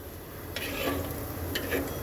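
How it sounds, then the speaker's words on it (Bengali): Garlic fries lightly in a pan while taro mash is being prepared, giving a close, steady sizzle broken by a couple of sharper bursts of stirring or spatter. "যখন রসুনটা একটু হালকা ফ্রাই হয়ে যাবে"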